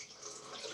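Tap water runs steadily into a sink while a razor blade is rinsed, a brief continuous splashing hiss close by.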